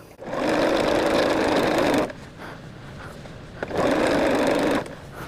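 A sewing machine stitches binding onto a pink exploding-heart quilt, running loud and steady in two long bursts separated by a quieter pause while the fabric is repositioned.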